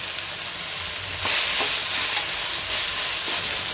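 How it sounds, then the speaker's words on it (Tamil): Tomatoes with asafoetida sauté in a pan, giving a steady, close sizzle with a few brief scraping stirs partway through and no talking. "தக்காளி இந்த அளவுக்கு வதங்கினது போதும் இவ்வளோ பெருங்காயத்தூள சேர்த்துக்கலாம்"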